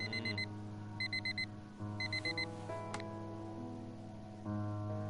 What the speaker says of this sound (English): The same alarm tone that Harry can sleep through.